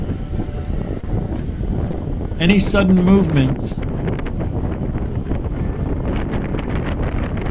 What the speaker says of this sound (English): It's windy, obviously. See the trees moving, you can hear it.